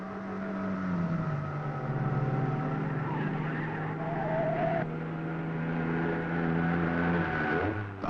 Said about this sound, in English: The high-performance air-cooled engine isn't quiet.